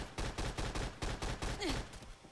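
Colt Mk.40 automatic cannon in Fallout 4 pounding out a rapid string of about eight heavy, loud, close booming shots in a steady rhythm, then a brief mechanical whine and trailing blasts.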